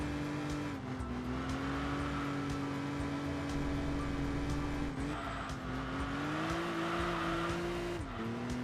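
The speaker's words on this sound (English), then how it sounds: "Just a little bit of a slide, but we're keeping our tires nice and toasty." A 2-liter race car in Enthusia Professional Racing holds a steady engine drone through a fast twisty section, while its tires slide and squeal faintly under the engine hum.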